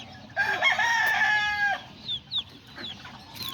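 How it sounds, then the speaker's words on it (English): Azteca and Serama chickens in a backyard flock: a rooster's drawn-out crow up close, followed by a few short clucks and chirps from the birds, with no one speaking. "there's all the little chickens"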